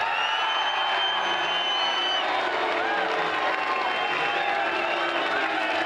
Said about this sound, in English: Give him a nice welcome round of applause, Mark Winterbottom.